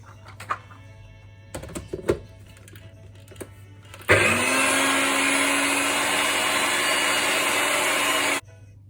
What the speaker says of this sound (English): I'm going to cover this and blend it out into a paste.